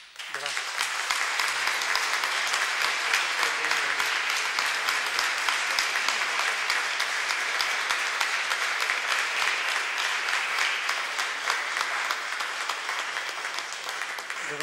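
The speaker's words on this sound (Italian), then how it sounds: "Date anche a lei un applauso." A church congregation applauds for about fifteen seconds, a steady, dense wash of many hands clapping at an even level with no talk over it.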